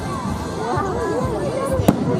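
Fireworks boom and crackle at a Fourth of July show in Robertson Park, Livermore, California, with whistling trails, one sharp close burst and a crowd murmuring underneath.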